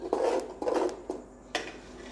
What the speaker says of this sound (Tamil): நல்லா இதை வந்து கட்டி இல்லாமல் கிளறிடுவோம்.